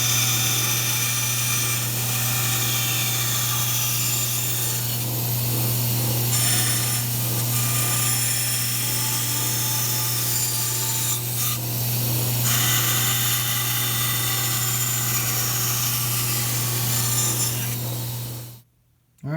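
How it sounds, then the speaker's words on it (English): Bandsaw cutting through two wooden boards screwed together, a continuous rasping, grinding cut over a steady motor hum that runs loud throughout and cuts off abruptly at the end. "So I can run them through the bandsaw at one time, so it'll cut both boards the exact same every time."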